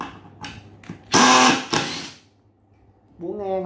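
A Makita cordless drill switched to its hammer setting fires off one loud, rattling burst followed by a shorter second spurt, close by, with someone speaking before and after.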